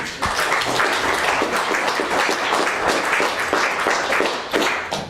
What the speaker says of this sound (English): Spontaneous applause there